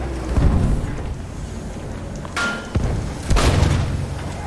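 A light tank struck by a shot in Battlefield 1, heard as a heavy booming thud in the middle of continuous battle rumble, followed by another loud impact boom shortly after.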